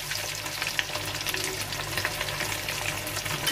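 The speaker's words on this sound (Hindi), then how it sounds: "उनको काट कर हमें इसी तरीके से फ्राई करना है।" Cut potatoes frying in a pan, a steady close sizzle with crackling spatter throughout and no voices.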